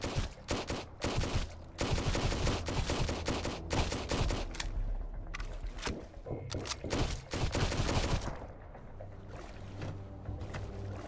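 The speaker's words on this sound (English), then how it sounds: "There are more people shooting Majigas at me." Rapid gunfire crackles through an attack on Dreadville in the survival game Sunkenland, with dense overlapping shots and bursts packed loudly together before thinning toward the end.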